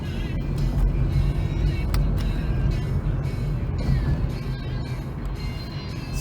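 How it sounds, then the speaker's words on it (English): Steady, loud road and engine drone from inside a six-cylinder Jaguar XJS facelift as it drives, a continuous rumble with faint clicks and no talk over it. "here we go for a drive in the XJS"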